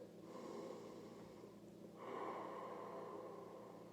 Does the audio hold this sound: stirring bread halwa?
no